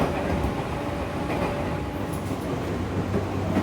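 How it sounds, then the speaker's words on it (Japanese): A steady rumble of a JR Joetsu Line train bound for Minakami rolling along the rails, heard from inside a carriage near Shikishima Station, with faint rhythmic clatter beneath. "JR 上越線水上行きの電車に乗っております。"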